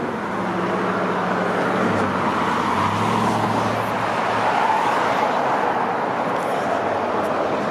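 A city bus drives along Eglinton Avenue East in Scarborough, Toronto, its engine rumble blending into a steady, loud roar of street traffic with no breaks.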